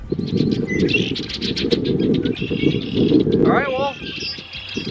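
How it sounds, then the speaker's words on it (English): Red-winged blackbirds call and squabble outdoors near a garden where fruit trees are being planted, giving a steady busy chatter of chirps, trills and a rising-falling whistle, fairly close and continuous. "These are the red-winged blackbirds."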